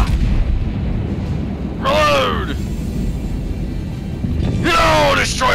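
Warship naval guns boom in a video game sea battle against the Nuremberg, low rumbling blasts under steady game noise, while a voice calls out commands twice.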